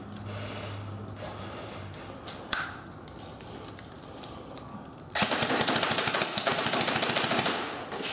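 A Classic Army Xtreme Nemesis HEX M4 airsoft carbine is test fired, with a few scattered clicks and taps followed by a loud sustained burst of rapid full-auto rattling.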